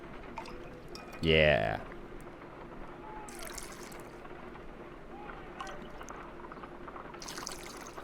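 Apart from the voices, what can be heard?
liquid poured from bottle into test tube in Sherlock Holmes video game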